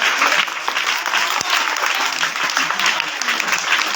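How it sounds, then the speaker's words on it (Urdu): Sustained applause from an audience at a school's annual prize-giving ceremony, steady dense clapping throughout with no break, fairly loud and close. "تالیاں"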